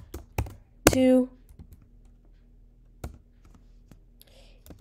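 Computer keyboard keys clicked in short scattered taps during coding, close by and fairly quiet, alongside a short spoken phrase.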